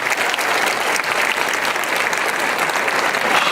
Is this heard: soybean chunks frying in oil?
no